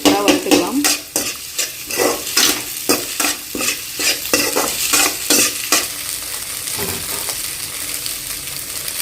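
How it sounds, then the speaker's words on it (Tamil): Egg seasoned with salt and pepper frying in a pan for egg fried rice, with a rapid series of sharp spatula scrapes and clacks over a steady sizzle, the strokes thinning out toward the end. "இதில் சால்ட்டும் பெப்பரும் போட்டு இந்த முட்டையை நம்ம வந்து சூப்பராக வறுத்துக்கலாம்"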